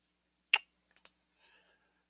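A computer mouse gives one sharp close click followed by two lighter clicks a moment later, quiet and isolated with no talking.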